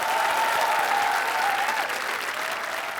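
Studio audience on a television game show breaks into steady, full applause, a dense wash of clapping lasting the whole moment, with a faint tone running beneath.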